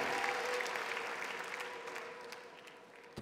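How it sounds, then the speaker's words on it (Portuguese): Church congregation applauding during a prophetic conference service, a sustained, even wash of many hands clapping that holds steady and slowly fades toward the end, with no voices over it. "aplauda Jesus, fique em pé no seu lugar."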